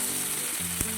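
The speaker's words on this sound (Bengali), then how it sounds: "কাঁকড়াগুলোকে ভালো করে ভেজে নেব।" Crabs fry in hot oil, giving a steady, close sizzle throughout with a brief soft knock near the end.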